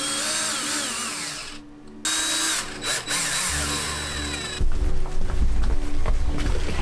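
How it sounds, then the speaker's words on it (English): A power drill drives screws into a thin luan panel during an RV cupholder repair, its motor whirring in loud close bursts that stop and restart over a steady background. "this is kind of a thin piece of Luan, so to give it a little extra support, I am going to put 4 screws in."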